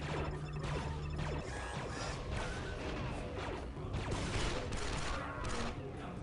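Combat in Star Wars Republic Commando with a grenade blast amid dense, continuous gunfire and crashing impacts, loud and busy throughout with no clear single boom standing apart.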